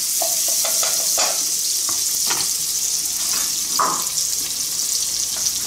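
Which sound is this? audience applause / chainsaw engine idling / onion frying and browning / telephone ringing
onion frying and browning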